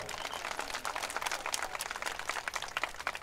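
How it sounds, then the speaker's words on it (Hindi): Women in a rally audience clap, a dense patter of many hands that stays fairly even and close throughout, without talk over it. "देखिए ताली बजा रही हैं"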